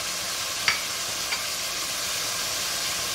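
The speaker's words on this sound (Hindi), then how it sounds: "में डाल दूंगी लहसुन अदरक, 2 मिनट उसको भूनेंगे" Garlic and ginger frying in a pan for a mutton stew give a steady, even sizzling hiss throughout, with two light clicks of a utensil early on and no voices.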